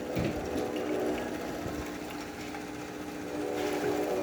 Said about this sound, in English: Now we're testing the hot water function of the machine.